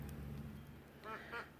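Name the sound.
ducks quacking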